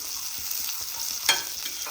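Potatoes fry and crisp in hot oil, sizzling steadily, with a brief scrape of stirring partway through and no talking.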